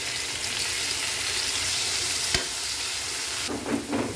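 Onion and tomato added to a hot pan for sinigang sa miso with bangus, a steady close sizzle with stirring, one sharp knock midway and a louder burst of frying near the end.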